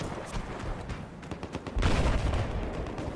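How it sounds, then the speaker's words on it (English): Anti-aircraft gunfire in a Battlefield 4 battle pounds in a steady rapid stream, swelling louder and heavier partway through and then holding as a thick barrage with no talk over it. "Oh, that's the AA."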